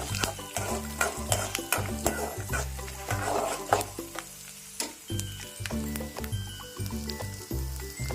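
Garlic frying in a pan for pirandai chutney makes a close sizzle under repeated clinking, scraping stirs that come in quick bursts, briefly pausing midway before resuming.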